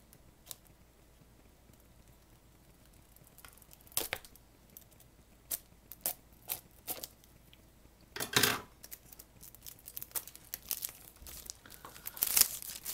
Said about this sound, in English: I'll try to get most of the unwrapping on camera